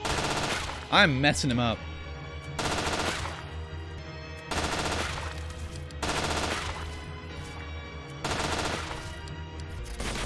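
Gunfire in the Roblox game Isle comes in repeated sustained automatic bursts with short gaps between them, while a player speaks briefly near the start.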